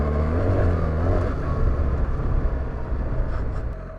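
A BMW R1300GS motorcycle engine pulls steadily while riding, a continuous low drone with rising revs under acceleration, close and fairly loud throughout with wind rush behind it.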